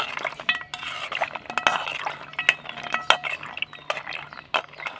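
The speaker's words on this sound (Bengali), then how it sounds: "এবার আমি চামচটা দিয়ে একটু নাড়াচাড়া করে নেব।" A metal spoon stirs small colourful sweets in syrup in a pan, producing scattered light clinks and scrapes against the vessel, fairly quiet and irregular, with no talk.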